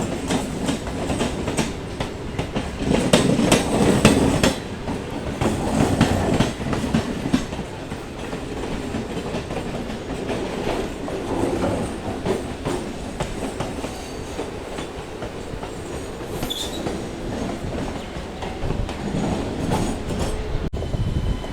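A local train rumbles steadily close by as it arrives at a station, wheels clacking over rail joints as it rolls in, with a brief high squeal partway through and no voices.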